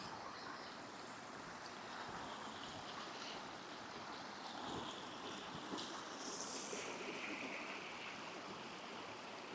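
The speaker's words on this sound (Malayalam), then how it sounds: "ഭയങ്കരമായ പാറക്കെട്ടുകൾക്കിടയിലൂടെ ഒഴുകുന്ന ഒരു അരുവി" A stream rushes between big rocks at Urulankuzhi in Kerala, a steady broadband wash of flowing water with gusts of wind, with no voices.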